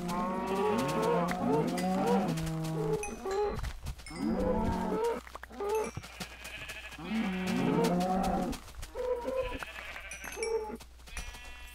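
Cows in the video game Minecraft moo repeatedly, with several drawn-out, nasal lowing calls in quick succession, separated by short gaps and heard clearly with no one talking.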